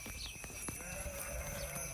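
Sheep bleat on a spring pasture in Sardinia, a few wavering calls at moderate distance over a steady outdoor hum, with no talking.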